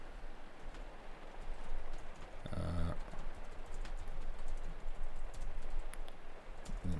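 Steady clicking of computer keyboard typing, close and fairly loud, with a brief louder burst of keystrokes in the middle and no talking.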